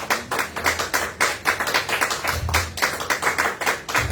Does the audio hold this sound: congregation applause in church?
yes